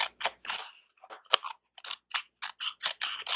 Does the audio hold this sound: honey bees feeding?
no